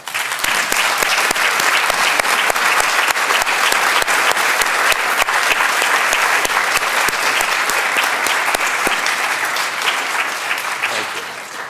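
A commencement audience at Duke University's Global Health undergraduate ceremony applauds graduating students, a dense, steady wall of clapping that holds loud for the full length and tapers only slightly at the end.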